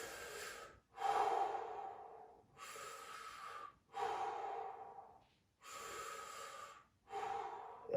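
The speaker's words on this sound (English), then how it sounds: "you're going to breathe in 3 times through your mouth" Three deep breaths drawn in through the mouth, each a long airy inhale followed by a pause, close and quiet in a calm room, evenly spaced with no talking.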